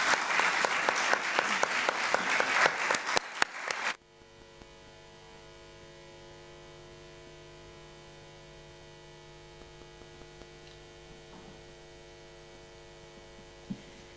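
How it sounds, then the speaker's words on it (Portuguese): An audience at a poetry book launch applauds three women who will join the author for readings. Dense clapping fills the first four seconds, then cuts off sharply, leaving only a steady electrical mains hum. "gostava que dessem uma grande salva de palmas para elas"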